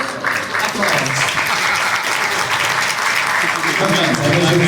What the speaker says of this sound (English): Please give them a good applause.